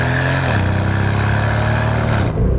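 Porsche Panamera GTS V8 accelerating, heard loud and close from the cabin: a dense throaty drone that drops in pitch at a shift, climbs again, then briefly dips at another smooth gear change near the end.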